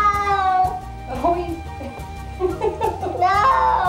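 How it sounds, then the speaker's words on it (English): Cats screaming and yowling as their owners try to bathe them, loud drawn-out meows and wails rising and falling in several bursts, close to the microphone with no one talking. "we even hear the cats scream the word no"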